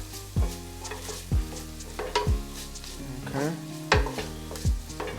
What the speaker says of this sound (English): We're gonna stir it around a little bit more.